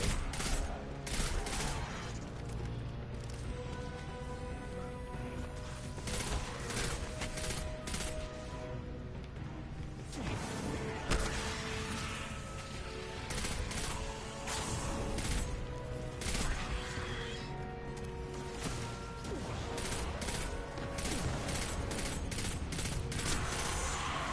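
Pulse rifle gunfire in the Destiny 2 video game crackles in rapid bursts, dense and loud, layered over game music and explosions that continue throughout.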